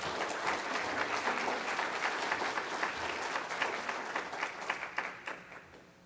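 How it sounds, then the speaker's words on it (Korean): A church congregation claps warmly to welcome a visiting pastor at a seminar, dense sustained applause from a large room that thins out and fades toward the end. "박수를 한번 환영해 주시기 바랍니다."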